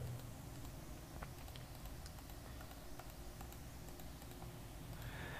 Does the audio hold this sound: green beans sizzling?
no